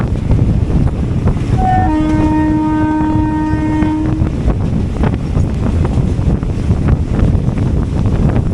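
The 12134 Mangalore-Mumbai CSMT Superfast Express arrives with a loud, close rumble of wheels and wind buffeting the microphone. A long train horn blares for about two seconds near the start, then the heavy rolling noise continues.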